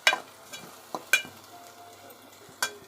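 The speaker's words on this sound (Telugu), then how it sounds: "బాగా మిక్స్ చేసుకోవాలి." Spoon scraping and clacking in a pan while paneer curry with chili powder, salt and coriander powder is mixed, several sharp strokes over a soft steady sizzle, close and alone.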